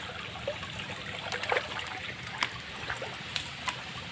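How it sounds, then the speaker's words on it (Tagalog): Forest stream water trickles and babbles steadily nearby in a quiet wooded setting, with small splashy droplet sounds scattered through the flow. "Dito ako sa may sapa."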